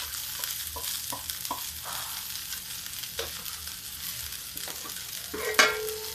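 Okra, coriander stems and green chilli fry in a pan, with a steady soft sizzle, a few scattered clicks and stirring scrapes, and a brief louder clatter near the end.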